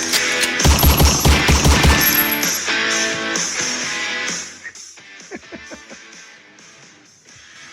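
Staged gunfire sound effects on a radio talk show burst out as a rapid volley of loud, booming shots, then thin into scattered echoing cracks and faint rattles that fade toward the end; nobody speaks.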